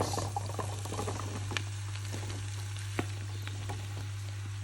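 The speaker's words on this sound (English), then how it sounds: "I'm going to stir fry these for around 15 to 20 minutes until they're nice and soft" Roughly chopped vegetables stir-frying with softened onions, giving a quiet, steady crackle and patter with a few sharper ticks and a constant low hum underneath, no voices.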